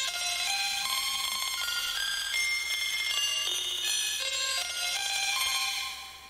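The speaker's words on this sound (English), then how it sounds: "with this arpeggio, which sounds like this." A synthesizer arpeggio made in Ableton Live cycles through four bright, bell-like notes in a quick, even stepping pattern. It plays loud and continuous on its own before fading slightly at the end.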